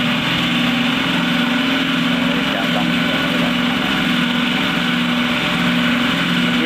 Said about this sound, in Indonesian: Ini biasa kayak review mesin aromanis.